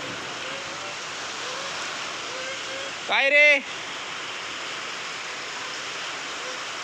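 Steady heavy rain roars without pause in a village, a dense wash of noise, with wind and lightning, while a man briefly calls out partway through.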